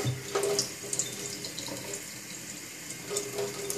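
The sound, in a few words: cold tap water running over a shoe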